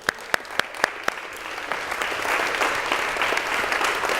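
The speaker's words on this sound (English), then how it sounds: "Round of applause, everybody." An audience at a sculpture workshop session breaks into applause, opening with a few sharp, separate claps before swelling into steady, dense clapping that continues to the end.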